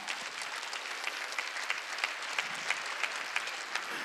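A church congregation claps steadily throughout, a moderately distant wash of many hands with a few sharper claps standing out at regular beats.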